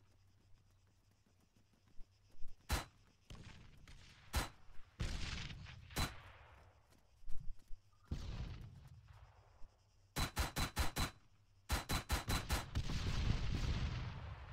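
Arma 3 MRAP MaxxPro's mounted gun fires in a video game, with single loud shots and then rapid bursts of automatic fire, each burst a tight string of sharp cracks set against quieter rumbling in between.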